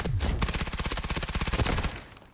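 AS VAL rifle firing in the video game Delta Force: one long, rapid automatic burst of suppressed shots, steady and close, lasting about two seconds before cutting off.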